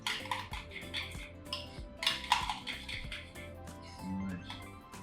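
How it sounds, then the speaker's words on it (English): A spoon works through yogurt and feta in a bowl, giving soft irregular clinks and scrapes with brief louder clusters. The sounds are close and quiet, and no one speaks. "I'm just mixing the yogurt with the feta and everything together"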